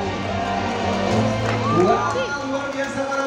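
A crowd of visitors claps, cheers and whoops at a tiger show at Taman Safari Indonesia, a dense, steady wash of noise with scattered shouts and voices mixed in throughout.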